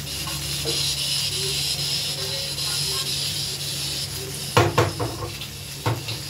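Steady, moderately loud hiss of a gas stove burner in a home kitchen while a Bengali fish stomach dish cooks, with a few clattering knocks of pots near the end.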